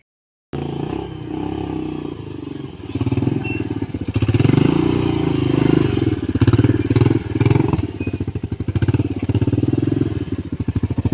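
A motorcycle engine runs steadily nearby after a brief silent start, with a loud rumbling idle and rhythmic pulsing that swells slightly as it revs, continuing throughout.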